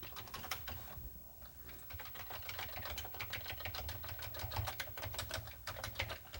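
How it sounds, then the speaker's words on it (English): Fast, steady typing on a Commodore 64 keyboard, a dense run of crisp key clicks lasting throughout over a low electrical hum, with no voices. "Okay, keyboard looks to be in good shape. Very, very responsive."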